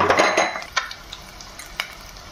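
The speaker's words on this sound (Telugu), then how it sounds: "కట్ చేసుకున్న పచ్చిమిర్చి ముక్కలు, ఉల్లిపాయ ముక్కలు వేసి వేయించుకోవాలి" Green chillies and chopped onions frying in a pan for a brinjal and white chickpea masala curry, with clattering stirs of a spoon against the pan over a soft sizzle, strongest at the start.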